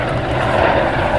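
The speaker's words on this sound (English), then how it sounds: "And there can be found another Royal Navy Merlin and what is currently still an RAF aircraft" A Royal Navy Merlin helicopter flies during an air display at RAF Waddington, its loud engine and rotor roar continuous and fairly close, with no talk.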